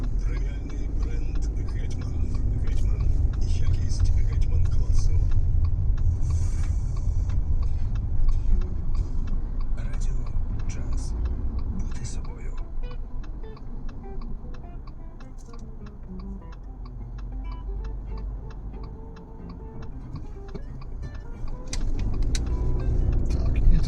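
A 2023 Subaru Forester Wilderness drives along with a steady engine and road rumble throughout, with ticking and rattling from inside the cabin and people talking over it.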